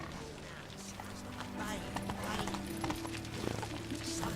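A horse gallops in The Witcher 3: The Wild Hunt with a rhythmic clip-clop of hooves, moderately close. Game music and a voice play faintly beneath it.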